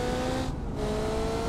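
A Nissan GT-R drifts in the driving game BeamNG Drive, its engine droning steadily with a sustained tire squeal, loud and continuous across the whole moment.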